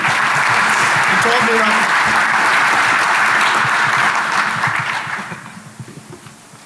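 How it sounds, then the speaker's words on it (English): A DEF CON hacking conference audience bursts into loud, dense clapping for a presenter named Dan, the sustained applause thinning and fading out near the end while a speaker's voice cuts in briefly over it. "Round of applause for Dan for taking the bullet for me."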